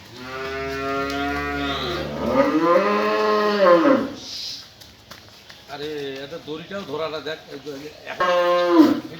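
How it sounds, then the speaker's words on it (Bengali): A Jersey cow, a pregnant dairy cow offered for sale, gives long, loud, drawn-out moos close by, one after another with short pauses between them. "জার্সি গরু এটা খুব ভালো একটা গরু"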